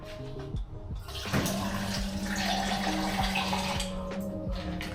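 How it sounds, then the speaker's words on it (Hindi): Drinking water poured from a bottle into a pre-workout shaker, a steady close gurgling pour with a faint rising pitch as the container fills, no talking. "इसमें डालेंगे हम पानी"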